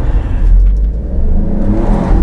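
An Alfa Romeo Stelvio Quadrifoglio SUV engine revs and roars steadily close by in the Dubai desert, a deep continuous rumble that swells slightly toward the end.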